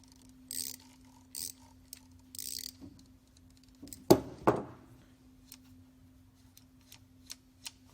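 A Facom ratchet being turned by hand, several soft clicks and scrapes followed by a louder pair of sharp ratcheting clacks and a few faint ticks, close and alone over a low background hum.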